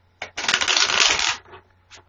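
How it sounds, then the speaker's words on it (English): A deck of playing cards is shuffled in one quick riffle lasting about a second, crisp and close, with a soft tap before and after. "I'm shuffling 3 times, and then I'm going to cut the deck, and then I'm going to pull 3 cards."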